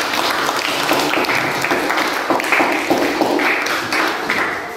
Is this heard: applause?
yes